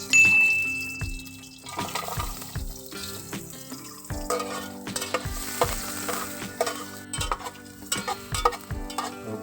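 Ginger sautés in a little hot oil in a pan, with a soft sizzle under repeated spatula taps and scrapes at a steady pace. It is fairly quiet and close, with some watery crackle in the background.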